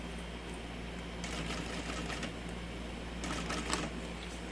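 A sewing machine stitches a large fabric bag in short bursts, a quiet mechanical whir rising twice over a low steady hum, fairly close with no talking.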